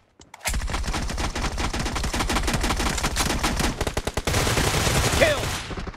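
A shooting video game erupts with close, rapid automatic gunfire, dense bursts of shots rattling almost continuously for several seconds with only brief gaps.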